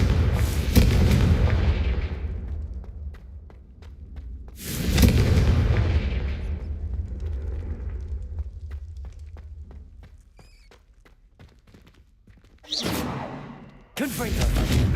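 Confringo blasting spells in Hogwarts Legacy go off as four loud booming explosions, each with a sharp onset and a rumbling decay, separated by quieter stretches of lighter combat noise.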